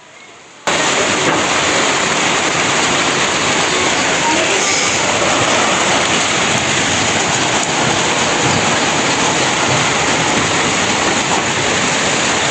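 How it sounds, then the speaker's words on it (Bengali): Rain falls under dark clouds near mango trees, starting abruptly after a brief hush and then holding as a loud, dense, steady hiss of drops. "টিপ টিপ করে বৃষ্টি হচ্ছে"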